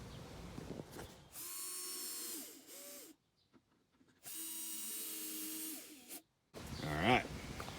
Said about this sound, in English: Let's put a couple screws back in the bottom here